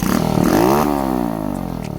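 A Grom clone motorcycle engine, running again after an ignition coil swap, gives a short loud rev that rises and falls back to a steady close idle, with no talk over it.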